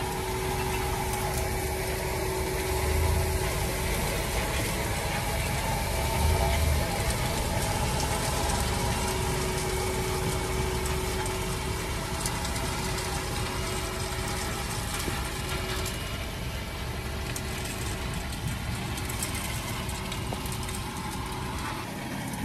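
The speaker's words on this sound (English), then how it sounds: "This is the 516 tractor, and it's the Fendt former, the 671, which is the twin rotor rake." A Fendt 516 tractor engine idles during a grassland silage harvest, a steady low rumble with a faint whine, continuous and close with no talk.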